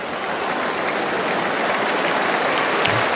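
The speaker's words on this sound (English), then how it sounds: "Round of applause for Sard." Crowd applause at an Australian football match between Fremantle and Carlton, a dense, sustained wash of clapping and cheering from a large stadium audience, loud and unbroken throughout.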